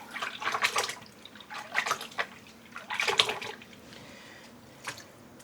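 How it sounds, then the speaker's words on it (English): Dyed yarn skeins are dunked into a tub of water two at a time, giving several soft splashing and sloshing bursts with quiet dripping between, close by and fairly faint. "And dunking them in the water like this."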